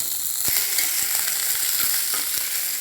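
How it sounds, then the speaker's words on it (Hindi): Ivy gourd (kundru) frying in a little oil, a steady bright sizzle running throughout with a few soft stirring clicks, close and alone with no voices. "अब इसमें कुंदरू डाल के थोड़ा फ्राई कर लेंगे।"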